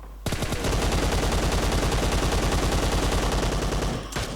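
Rapid automatic gunfire in a shooter video game rattles loud and close in a sustained burst lasting several seconds, then cuts off abruptly.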